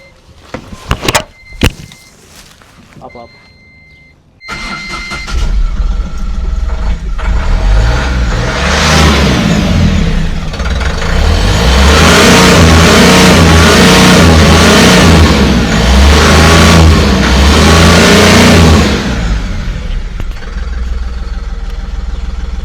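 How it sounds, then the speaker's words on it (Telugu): An Ashok Leyland Bada Dost 1.4 LS Plus commercial vehicle, second-hand and in good condition, starts after a few clicks, then its engine idles loudly and revs up and down repeatedly before settling back, close by with no talking. "ఒకసారి వెహికల్ కూడా స్టార్ట్ చేసి మీకు ఇంజన్ సౌండ్ కూడా వినిపిస్తాను"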